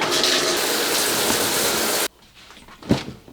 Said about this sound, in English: and I gotta shower.